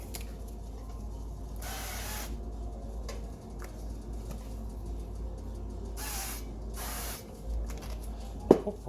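Cooking spray hisses onto a waffle maker in several short bursts, one early and two later. A faint background hum runs underneath, and a small clack comes near the end.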